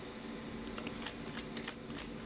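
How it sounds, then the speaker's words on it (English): A glossy tarot card deck is shuffled in a continuous riffle of quick, papery flicks and clicks, close up and fairly quiet against a steady background hum. "So, let's give it a shuffle."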